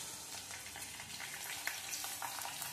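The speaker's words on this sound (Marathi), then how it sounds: "आपला लसूण मस्त असा थोडासा ब्राऊन होऊन द्यायचा, छान फ्लेवर येतो आमटीमध्ये" Garlic browning in hot oil in a kadhai for amti, a soft, even crackling sizzle with light stirring, fairly quiet and uninterrupted.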